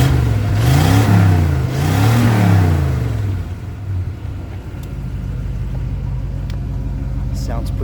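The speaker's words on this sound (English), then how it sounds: "Sounds pretty tame at idle." A 1986 Chevy C10 with stock manifolds and a new dual exhaust revs briefly, its throaty rumble rising and falling twice, then settles into a low, steady idle close by.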